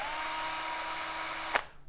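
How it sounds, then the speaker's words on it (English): A handheld power drill whirs at a steady high speed, loud and close, then cuts off abruptly with a click and spins down to quiet. "I love my power drill."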